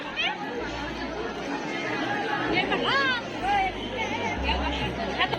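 Dense crowd chatter fills the busy main gate area of the Khandoba temple at Jejuri, a steady babble of many voices near and far with occasional louder calls rising above it.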